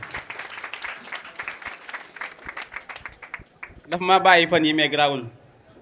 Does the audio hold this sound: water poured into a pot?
no